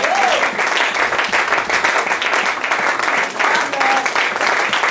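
A church congregation breaking into loud, sustained applause, dense clapping filling the room without pause, with a few voices briefly rising above it.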